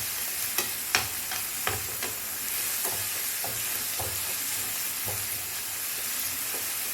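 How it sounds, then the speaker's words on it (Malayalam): Clam roast frying in a pan, stirred with a spatula: steady close sizzle with several sharp scrapes and clinks, no talking. "അടച്ചൊന്ന് തുറന്നൊന്ന് ഇളക്കി കൊടുക്കാം"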